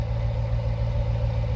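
A Chrysler SRT8 V8 engine idles steadily with a deep, even rumble, close and loud, throughout the short stretch without talk.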